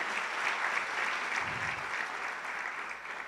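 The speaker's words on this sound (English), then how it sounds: "Can we give him a round of applause as he makes his way up?" Applause from a symposium audience, a steady dense wash of clapping heard at a moderate distance, holding evenly for a few seconds.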